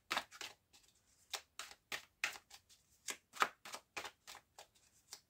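Tarot cards are cut and drawn for a nine-card spread: a quick, irregular run of soft, close card snaps and slaps, faint and with no talking.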